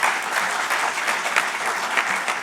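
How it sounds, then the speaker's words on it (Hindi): Audience applause at the AYUSHCON-2023 conference, a dense, even wash of many hands clapping at close range, steady for the whole stretch with no talk over it. "इनके लिए ताली बजाना चाहिए"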